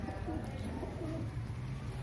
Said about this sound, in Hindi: यहाँ पे बहुत सारे कबूतर से देख सकते हो, मैं छत में हूँ अभी।